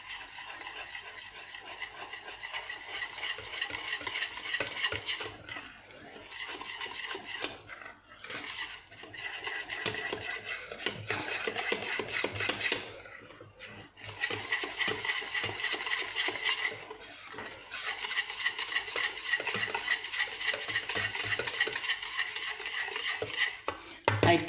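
A milk and chocolate cream dessert mixture being stirred in a pot, a steady scraping, swishing rhythm of the utensil against the metal with brief pauses, close and fairly loud, with no voices.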